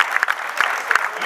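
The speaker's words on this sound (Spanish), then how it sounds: "Quiero pedir un fuerte aplauso para la Agencia de Córdoba Cultura" Brief burst of crowd applause at a live music event in Córdoba, a dense clapping wash with a few sharper claps and cheering tones on top, fairly loud.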